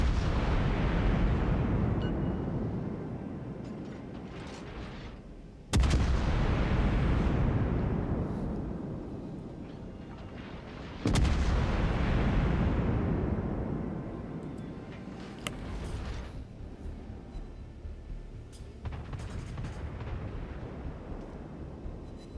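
A Des Moines cruiser fires its guns in the naval video game World of Warships: three heavy booming salvos, each about five seconds apart, with a long rumbling decay after each one and smaller pops in between.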